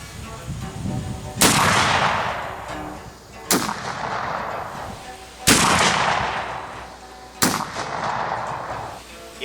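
Four loud muzzle-loading booms from a Cabela's .58 caliber Hawken rifle firing round balls, evenly spaced about two seconds apart, each a sharp blast trailing into a long outdoor rolling echo.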